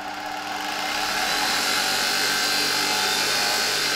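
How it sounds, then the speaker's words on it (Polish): A Zelmer vacuum cleaner motor, running after one of its brushes has been replaced, spins up and settles into a loud, steady high-pitched whine, heard close with no talking. "mogę Wam nawet tutaj króciutko pokazać, jak ten silnik działa po wymianie jednej ze szczotek"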